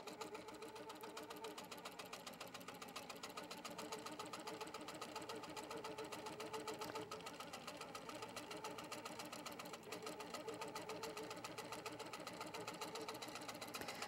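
An HQ Pro-Stitcher longarm quilting machine runs with a rapid, even mechanical stitching hum and steady needle ticking, faint but continuous for about fourteen seconds with no talk.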